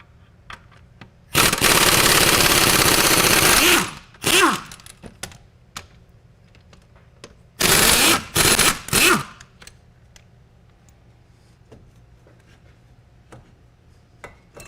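Two long bursts of a ratcheting tool, then a few short clicks, loosen the two 15 mm caliper bracket bolts on a Pontiac Montana during a hub replacement. The rattling is close and loud, with quiet gaps and small metal taps between bursts.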